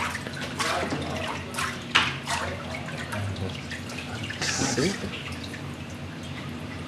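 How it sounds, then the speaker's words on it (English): Water drains and drips from a paper mould lifted from the vat during handmade papermaking, splashing and trickling while a person speaks over it. "shake it a little bit, so the water goes down, and the fiber rests."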